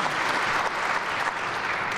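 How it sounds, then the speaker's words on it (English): An audience at an awards ceremony applauds, a dense, steady wash of clapping from many hands filling the room at moderate volume without pause. "I think that deserves a round of applause."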